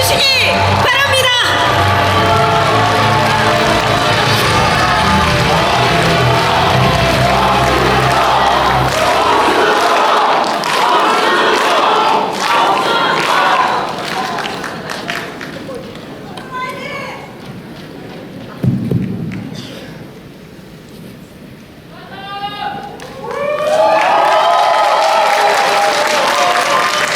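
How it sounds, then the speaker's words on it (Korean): A crowd of party members at a Democratic Party provincial chair election event cheers and applauds a candidate's entrance, loud clapping with whoops and shouts that fades midway, then swells again near the end, with a voice over it early on. "뜨거운 힘찬 박수로 송순호 후보를 맞이해 주시기 바랍니다"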